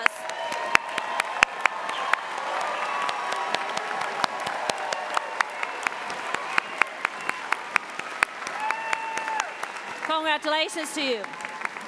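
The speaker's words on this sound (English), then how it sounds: "please stand, rise together, so we can give you one final applause" A standing commencement audience at a university graduation applauds the graduating class with long, sustained clapping and crowd noise, while a voice speaks over it near the end.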